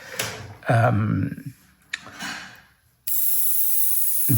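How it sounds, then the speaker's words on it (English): Short bursts of an airbrush spraying candy paint mixed with binder and reducer onto paper, broken by brief pauses, then a steady close hiss that keeps going to the end. "I will try first here to see how it sprays"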